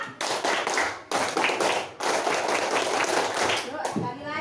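A scout group of schoolchildren claps in rhythmic bursts for a pramuka clapping chant, tight patterned claps in several phrases separated by short pauses, with voices chanting along.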